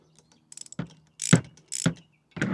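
A socket wrench ratchets on a small acorn nut until the head snaps off: a few light clicks, then several loud, sharp ratcheting bursts, close and isolated.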